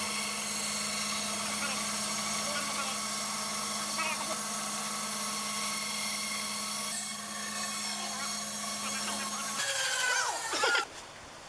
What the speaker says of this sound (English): So this cut like butter using this brand new bandsaw blade.